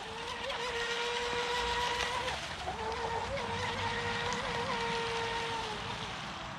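A small radio-controlled outrigger speedboat with an electric motor runs on water, giving a steady high whine whose pitch dips briefly and then climbs again as the boat turns, heard at a moderate distance.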